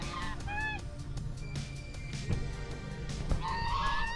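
Two geese honking beside a temple pond, their nasal calls repeating in short bursts near and clear over a steady outdoor background with low rumble.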